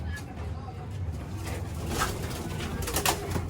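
Soft pigeon cooing repeats under steady background noise, with low murmuring throughout and a few brighter bird sounds near the end; racing pigeons being trained.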